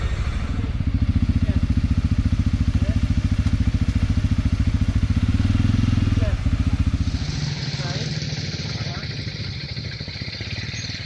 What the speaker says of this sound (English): We're going for a quad bike ride.